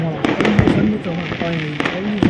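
Diwali firecrackers bursting outdoors at night, a run of sharp pops and bangs scattered through the stretch over a dense crackling background, while someone talks loudly over them.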